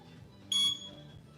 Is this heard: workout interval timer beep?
yes